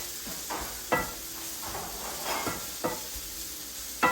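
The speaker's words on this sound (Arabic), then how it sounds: "نحرك كلشي مزيان" Spices and garlic powder being stirred in a pan, giving a soft continuous sizzle with several brief scraping strokes at an uneven pace, close and moderately quiet with no talk.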